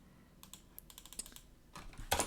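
Typing on a computer keyboard: quick, light key clicks in short irregular bursts, close and fairly quiet, ending in a louder flurry of keystrokes.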